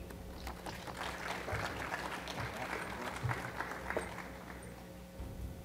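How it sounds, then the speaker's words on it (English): A conference audience at a virtual reality event applauds as a speaker walks to the stage, a dense, fairly quiet wash of clapping heard from a distance over a steady room hum. "Let's give Chris a warm round of applause as he comes to the stage."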